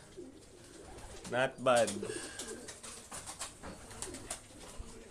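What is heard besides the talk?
racing pigeons cooing after returning from race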